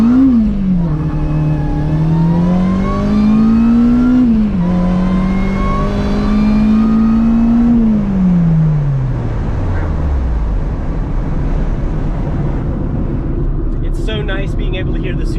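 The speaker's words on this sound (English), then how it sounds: "Able to hear the supercharger over the exhaust now, but the exhaust has just the right amount of tone." A supercharged Acura RSX accelerates hard, its exhaust note climbing and dipping through gear changes with supercharger whine riding on top, then the revs drop away and the car coasts down to a low rumble.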